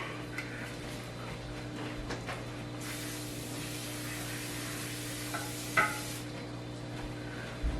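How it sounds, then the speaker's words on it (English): A single sustained hiss of aerosol cooking spray on small loaf pans lasts a few seconds against a quiet kitchen background, followed by a light clink. "So I just spray these down with, Costco spray."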